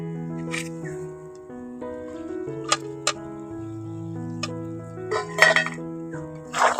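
Fried potatoes are stirred into chicken in a pot, with a few sharp spoon-on-metal clinks and scrapes, clustered near the end, over soft background music.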